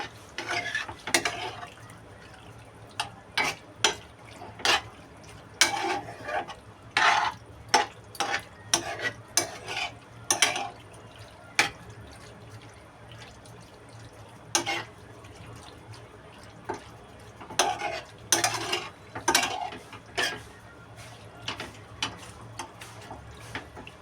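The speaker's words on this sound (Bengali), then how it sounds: "দেখো সবগুলো একটু মিশিয়ে নেবো এইভাবে" Cooked macaroni pasta being stirred and mixed in milk in a pan, giving a run of soft wet scraping and squelching strokes in irregular bursts, fairly close, over a low steady background hum with no talking.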